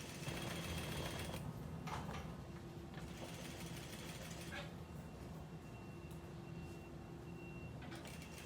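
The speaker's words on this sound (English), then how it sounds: "we will baste as far as we can." A sewing machine bastes a blouse zipper in place, running as a steady, continuous mechanical whir with faint clicks, fairly quiet and unbroken.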